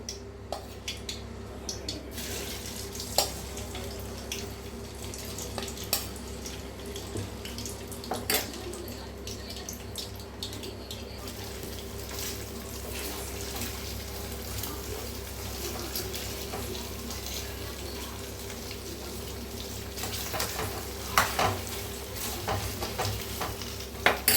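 Boiled taro root pieces fry in hot oil with a long, even sizzle, punctuated now and then by stirring clinks and scrapes, close by and fairly quiet throughout.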